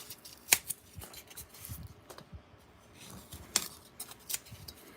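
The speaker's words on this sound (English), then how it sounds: "Cut a little piece of foam." A small piece of foam is cut with scissors for a miniature campfire diorama, making a few short, crisp snips spread out between quiet gaps.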